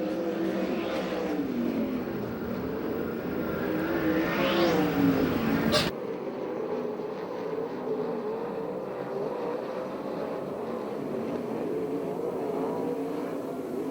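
USAC/CRA sprint cars race the last lap at Perris, California, engines rising and falling in pitch as cars scream past one after another, then a steadier distant roar of the pack, with an announcer talking over it.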